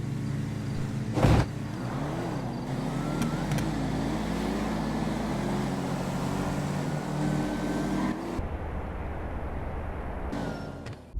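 Two Cadillac CTS-V cars launch side by side in a GTA V drag race, a steady loud engine drone holding for several seconds before dropping off, with no talking.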